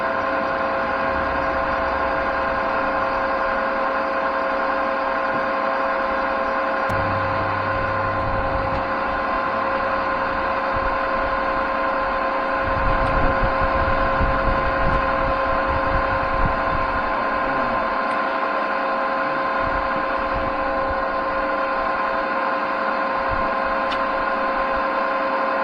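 A Cincinnati E1 machine running at its highest feed setting gives a steady mechanical hum with a constant tonal drone and fan-like whir. Around the middle a louder, rougher stretch of motion noise rises briefly before settling back. No one speaks.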